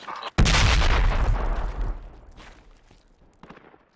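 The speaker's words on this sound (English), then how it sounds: "Frag coming in." A frag grenade goes off in the military shooter Project Reality with a sudden heavy, close boom that rolls into a long fading rumble, followed by faint distant gunfire cracks.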